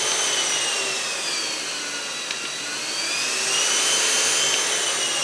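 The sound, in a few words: Grundig VCH 9832 cordless stick vacuum cleaner running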